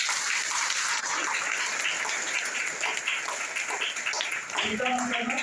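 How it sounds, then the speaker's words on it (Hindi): An audience at a motivational business talk claps steadily throughout, a dense wash of applause that carries on for about five seconds before a voice breaks in near the end. "एक बार तालियां बजा देंगे बहनों के लिए"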